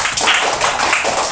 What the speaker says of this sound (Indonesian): Tepuk tangan buat teman kita yang siap.